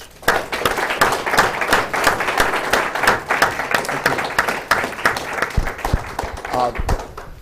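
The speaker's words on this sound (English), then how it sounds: "Ladies and gentlemen, now is the time for applause." An audience applauds at a state and federal election debate, dense sustained clapping filling the room from start to finish, with a few louder claps near the end.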